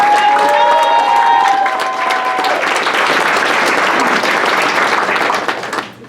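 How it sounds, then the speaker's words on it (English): A loud crowd at an awards ceremony breaks into dense, sustained applause with cheering and a few whistles near the start, holding full for several seconds before dropping off quickly at the end. "Let's give him a big round of applause."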